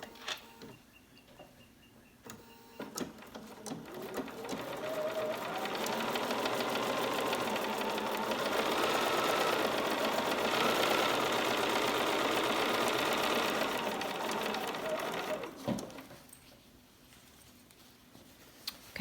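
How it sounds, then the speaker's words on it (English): A sewing machine chain-sews small quilt fabric pieces for a frame quilt top, its steady motor hum rising after a few seconds, running continuously for about twelve seconds, then stopping, with no talk. "remember I said I'm just going to chain sew"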